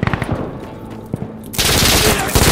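A .50 caliber gun fires in Insurgency Sandstorm: a few sharp isolated cracks give way to a loud, dense burst of sustained fire that fills the final second of the clip.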